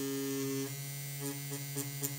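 A tattoo machine runs at roughly 120 to 130 strokes per second, giving a faint, steady electric hum with a low buzzing tone, close and alone without talk.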